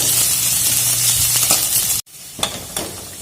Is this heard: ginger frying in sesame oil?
yes